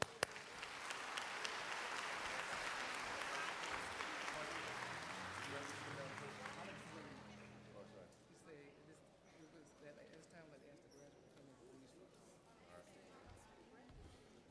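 At an adult high school and GED graduation, a crowd claps loudly for several seconds, then the applause thins and fades into scattered claps and quiet murmurs.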